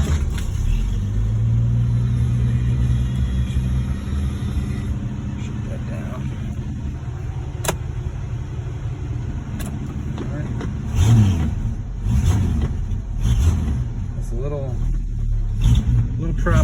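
A 1968 Ford Mustang engine, awaiting restoration and struggling with fuel starvation through the fuel filter, idles roughly with a deep rumble and surges into a few revs, up close, while someone talks over it.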